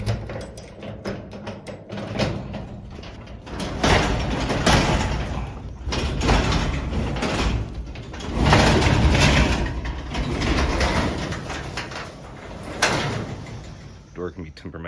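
A stiff, temperamental shed door is forced open in bursts of rattling, scraping and clunking, loud and close, with a voice speaking briefly in between.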